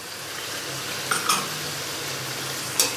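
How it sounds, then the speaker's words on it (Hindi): Ginger garlic paste masala with salt fries in a pan as a steady, soft sizzle, broken by a few quick scrapes and clinks of a stirring spoon, with no talking. "दोबारा से इसको अच्छे से मिक्स करेंगे और 2 से 3 मिनट के लिए इसको मज़ीद फ्राई कर लेंगे"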